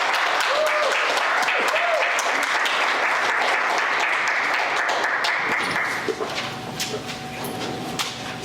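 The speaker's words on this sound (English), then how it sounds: "How about another round of applause for Dr. Mann?" Audience applause after a speech at a university business conference: loud, dense clapping from a large crowd that rolls on for several seconds, then thins into scattered claps and background stirring.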